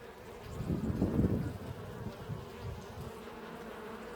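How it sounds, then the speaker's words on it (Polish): Honeybees buzz in a dense low hum that swells loudly near the start, then settles into a steadier drone. "pszczoły jest dosyć sporo tutaj"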